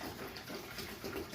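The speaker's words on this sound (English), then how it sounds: "first thing I'm going to be doing is pouring my juice into this pitcher." Apple juice pours steadily into a pitcher for small-batch cider making, a continuous close gushing, splashing flow with no pauses and no voices.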